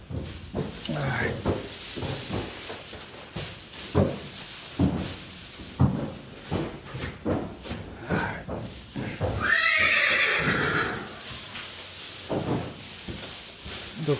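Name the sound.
horses neighing and hooves clopping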